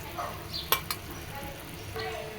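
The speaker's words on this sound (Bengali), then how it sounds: "এখন মাছের মাথা ছেড়ে দিয়েছি। এটা হচ্ছে ইলিশ মাছের মাথা" Two hilsa fish heads dropped into a pan of cooked-down spice paste, sizzling and spitting at a moderate level, with a couple of sharp utensil clinks early on and steady frying underneath.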